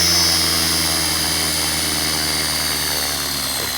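An Align T-Rex 470LP RC model helicopter flies nearby with a steady, loud, high-pitched motor and rotor whine that holds constant throughout.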